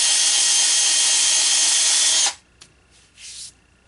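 A loud, steady rushing hiss of walnut wood being sanded on a spinning lathe for about two seconds, then it cuts off to quiet with faint rustles.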